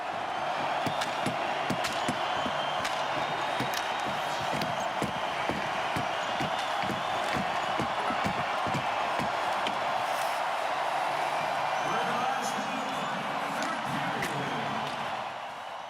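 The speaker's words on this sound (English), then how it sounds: "Listen to that crowd." Hockey arena crowd at a Panthers versus Oilers NHL playoff elimination game roars steadily and loudly throughout, a dense wash of cheering and screaming with scattered sharp thumps and claps in the mix.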